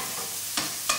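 Turbot fillets fry in a hot pan with a steady close sizzle, broken by two brief louder scrapes as the fish is stirred or moved.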